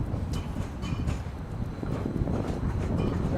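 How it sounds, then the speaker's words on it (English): A tram car rolls past on rails in Newark, a steady rumbling roar with faint clicking and wind noise, fairly close and without speech. "Watch the tram car, please."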